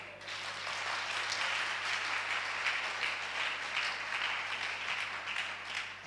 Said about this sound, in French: Acclamons pour elle.